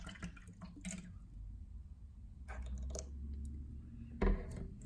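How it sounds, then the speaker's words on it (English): Dydo Miu artesian bottled water, sourced from Japanese deep sea water, being poured into a container; a soft, fairly quiet trickle and splash with a few brief clinks, ending in a sharper knock. "Let's pour some water in."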